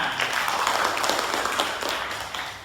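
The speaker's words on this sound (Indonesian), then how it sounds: "tepuk tangan untuk kita semua" A classroom of children claps together in a brief burst of applause that swells and then fades over a couple of seconds.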